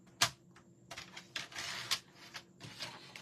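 Patterned paper being cut into a two-inch strip, with a series of crisp, close snips and rustles separated by short pauses, quiet and with no voices.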